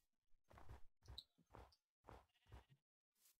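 Sheep in the Minecraft video game bleat in a series of six short, quiet calls spaced roughly half a second apart, with no talk over them.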